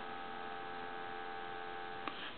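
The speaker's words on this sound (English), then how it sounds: "Now we have dial tone," A steady, faint electronic dial tone from an ITT 500 rotary desk telephone hums continuously without a break, with a tiny click near the end.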